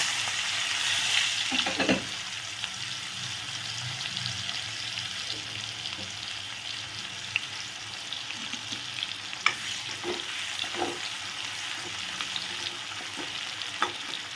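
Onions go into a pan of hot oil with whole garam masala spices for a simple egg dish, giving a constant busy sizzle with occasional faint stirring clicks and scrapes, steady and close, no voices.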